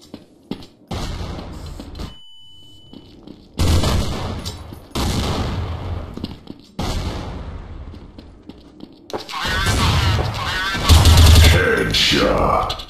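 Gunfire bursts from the Counter-Strike Source video game, several loud rapid volleys separated by short pauses, with a heavier cluster near the end.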